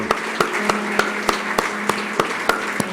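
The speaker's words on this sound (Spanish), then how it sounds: "Le podemos dar un fuerte aplauso a nuestro Dios y Padre, a Jesucristo, nuestro Señor." Applause for God during a Spanish-language church service: a congregation's sparse, fairly steady claps ring out at a regular rhythm, loud and near, with a low hum underneath and no voices.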